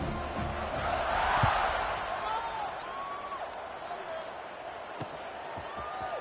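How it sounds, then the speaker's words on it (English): Stadium crowd in the NCAA 25 football video game roars in a broad, steady wash that swells and then settles, while a commentator talks over it throughout. "this crowd is feeling themselves after that last drive."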